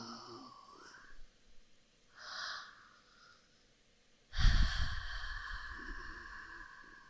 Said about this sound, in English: Just listen to the sound of my puppy snoring